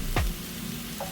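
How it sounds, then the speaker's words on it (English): Clam juice and white wine hitting a hot pan raise a steady, dense sizzle that stays at an even level through a brief moment of cooking. "Now we are going to add our clam juice, that is 1/4 cup of clam juice, as well as our white wine."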